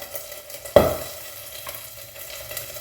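Cumin seeds are tipped into a hot frying pan and hit the oil with a sudden, sharp sizzle, which fades into a quieter, steady crackle close by.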